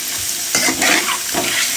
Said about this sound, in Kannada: ಇವಾಗ ಈ ಮೊಟ್ಟೆ ಸ್ವಲ್ಪ ಬಣ್ಣ ಬದಲಾಗೋವರೆಗೂ ಇದನ್ನು ಸ್ವಲ್ಪ ಫ್ರೈ ಮಾಡ್ಕೋಬೇಕು